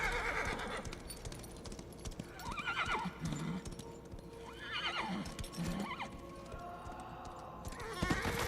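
Horse sounds in the Darksiders 3 video game: two distinct whinnying neighs a couple of seconds apart, accompanied by hoof clip-clops and a rumbling game background, close and clear.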